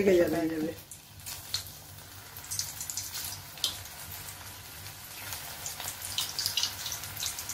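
Pieces of food slid one at a time into hot oil over a medium gas flame, a soft continuous sizzle and crackle that builds slightly, after a brief moment of talk at the start.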